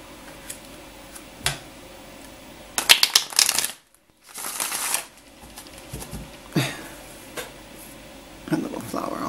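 Tarot cards being shuffled up close in quick riffling bursts and soft flicks, with a short pause midway and speech nearby.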